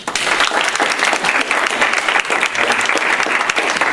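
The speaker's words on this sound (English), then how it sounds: "So can we give them a round of applause, please?" Audience applause at a university student senate meeting, a loud, sustained round of clapping from the room that stays dense and even from start to finish.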